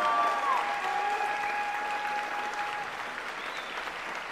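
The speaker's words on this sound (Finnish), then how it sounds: "Annetaan vielä valtavat aplodit Ukko Pelkonen!" A large crowd gives sustained, loud applause at a live wrestling event, steady clapping holding across the whole stretch and easing off slightly toward the end.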